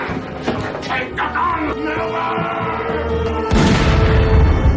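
A sudden loud gunshot in a film bursts in after a stretch of muffled background sound and voices, followed by a heavy rumbling tail.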